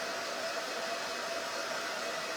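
A dryer blows in a steady, loud, unbroken whoosh with a faint motor whine, running alone without any talk.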